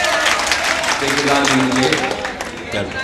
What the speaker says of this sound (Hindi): मंदिर साहब के नाम पर आप ताली बजाइए।